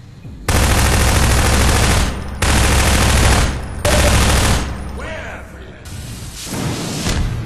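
Gunfire in Half-Life 2 Episode 2 comes as loud, sustained automatic bursts in four separate strings with short pauses between them, backed by a faint rumbling echo.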